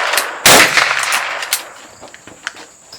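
A firearm is fired from the hip: one loud, sharp close shot near the start is followed by fainter reports and clanks that fade over the next seconds.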